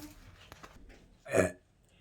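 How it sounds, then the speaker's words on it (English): A storybook wolf lets out a burp, one short loud guttural burst in an otherwise quiet passage with faint background sounds before it. "The wolf let out a satisfied burp"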